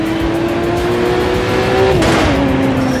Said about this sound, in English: Street racing is at the core of the crew DNA.